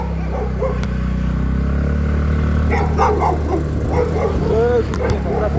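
Dogs yip and bark in short bursts amid a busy outdoor background, with people talking nearby and traffic rumbling low.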